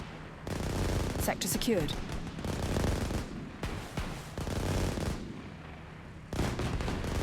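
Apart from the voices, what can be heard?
gunfire in the video game Systemic War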